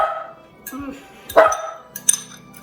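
A pet dog barks in a home kitchen during cooking, giving a few sharp, close barks with brief clinks of dishes and a voice speaking between them.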